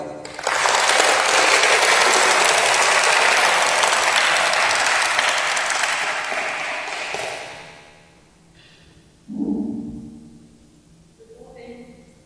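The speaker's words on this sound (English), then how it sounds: "A round of applause." An audience gives a loud, dense round of applause for graduates at a Vietnam Human Rights Day ceremony in Washington, D.C. It lasts about seven seconds, then fades out, and a voice begins speaking.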